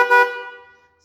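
A car horn gives a single short honk, loud and close, then fades out over roughly half a second with nothing else heard.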